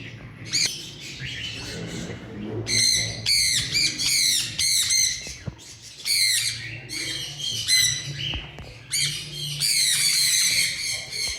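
A breeder parrot squawks loudly and close in a bird breeding setting, repeated harsh screeching calls in quick bursts filling most of the stretch with brief pauses between.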